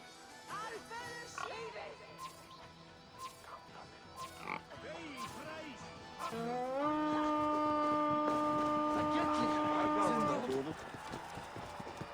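Pig grunts and squeals from the Assassin's Creed Valhalla video game sound among other livestock noises, including a long sustained animal call, with people talking over the game scene.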